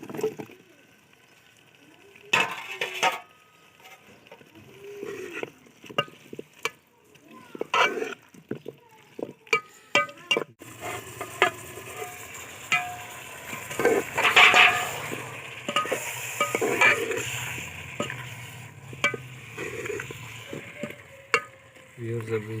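Potatoes tipped into a hot frying pan for methi palak salan and stirred, sizzling and crackling steadily after scattered clinks and scrapes, with a few louder spatula knocks.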